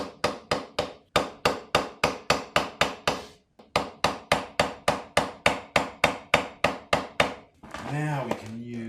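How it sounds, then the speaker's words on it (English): A small hammer strikes a screwdriver to knock out a safety nut on a 2024 Beta 390 RR-S motorcycle, rapid sharp metallic taps in quick regular bursts with a brief pause, then a ringing scrape at the end. "So I'm gonna use my little hammer and screwdriver and try and knock this out."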